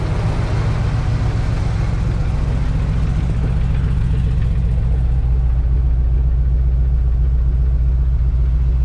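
1962 Chevrolet C10 pickup engine idling, a loud, steady low rumble that holds evenly throughout and sits close by, with a brief spoken word at the very start.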